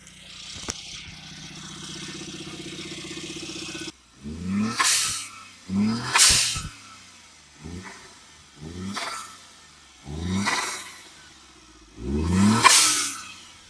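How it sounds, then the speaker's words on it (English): A turbocharged Suzuki Jimny kei car engine revs repeatedly in short bursts, each followed by a sharp hissing whoosh as the turbo blow-off valve vents, loud and close. "Got a little blow off noise."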